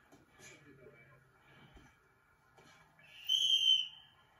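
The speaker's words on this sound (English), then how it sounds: "I accidentally pulled the whistle." A short whistle is pulled by accident and sounds near the end as a brief, bright, fairly loud tone. Quiet background noise and faint talk come before it.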